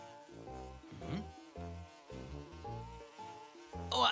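A cartoon bee chasing characters into a house, a loud droning buzz that wavers in pitch throughout, with characters shouting over it.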